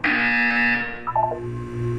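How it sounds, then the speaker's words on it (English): A Portal 2 video game buzzer sounds once, a loud sustained electronic tone lasting about a second, followed by a short lower stepped tone and fading hum. "You will hear a buzzer. When you hear the buzzer, look up at the ceiling."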